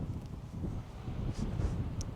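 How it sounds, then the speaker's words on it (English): Low, steady wind buffeting the microphone on Franklin Mountain, a continuous rumbling roar with faint rustling on top. "Windy."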